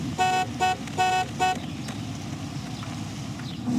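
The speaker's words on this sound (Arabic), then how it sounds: "مش مين اللي ماشي هناك ده؟ زمر له يا حسن" Four short car horn toots in a quick rhythm, loud and near, honked at someone walking along a street, followed by steady traffic hum.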